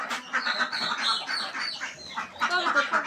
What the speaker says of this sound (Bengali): এই যে এই মুরগিগুলো দেখতে পাচ্ছেন, এগুলা রেডি মুরগি।